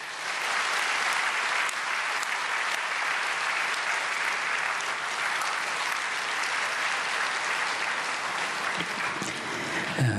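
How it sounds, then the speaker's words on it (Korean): Sustained applause from a seated audience at a prayer meeting for peaceful reunification, welcoming a former human rights commission chair to give a special lecture, steady and dense for about ten seconds without pause. "박수로 환영하시겠습니다"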